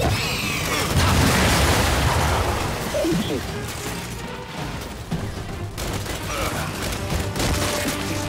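Heavy gunfire from the Gears 5 video game, dense bursts of shots and booms in a chaotic firefight, loud and continuous through the clip.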